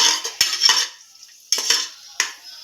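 Pistachios being sautéed in ghee in a pan for carrot halwa, with a few sharp metal spoon scrapes and stirring clatters against the pan in short bursts, close and clear, no voices.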